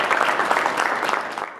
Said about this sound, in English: Another round of applause to just all of our pre-service teachers and all of our school partners